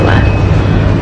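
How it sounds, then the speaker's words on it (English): Inside a moving train, a loud continuous low rumble and rolling drone fill the space steadily without a break. "We are now on the train"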